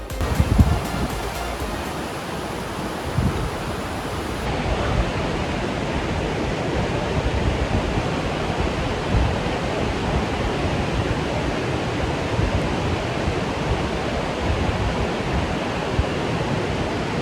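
Tumpak Sewu Waterfall in Indonesia roars with a steady, dense wash of rushing water, loud and close, a constant broadband rumble with no voices over it.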